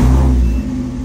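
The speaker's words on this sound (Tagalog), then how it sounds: "Medyo maingay yung muffler" A car engine with a noisy muffler idles close by, giving a steady low rumble with a pulsing exhaust note that settles slightly after a brief initial surge.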